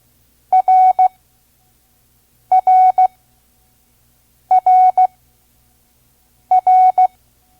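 Morse code letter R sent at five words per minute, a steady pure tone keyed dot-dash-dot with a longer middle tone, repeated four times with clear pauses between, loud and alone.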